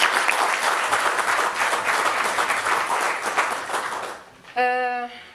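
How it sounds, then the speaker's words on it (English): Audience applause for the panelists at the close of a youth dialogue on AI: dense, steady clapping from a sizeable crowd for about four seconds, fading as a single voice begins speaking near the end. "Can we just give our panelists a last round of applause, please?"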